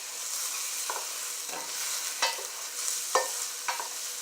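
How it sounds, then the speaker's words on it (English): Mushrooms being stir-fried with vegetables in a pan, with a steady background sizzle broken by several distinct scraping and stirring strokes, close and alone without voices. "mixing in the mushroom."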